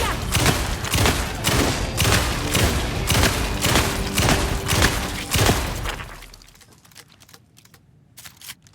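Gunfire in Alan Wake 2's Night Springs expansion rattles out as a rapid, evenly spaced string of loud, punchy shots for about six seconds, then drops off into quieter scattered ticks.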